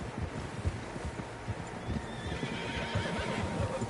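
Several horses walk with soft clip-clop hooves and an occasional whinny, moderately quiet against a rustling outdoor background.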